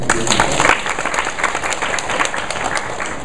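Audience applause at a presentation event, a dense, steady wash of clapping from many hands that continues throughout at a fairly even level, with no speech over it.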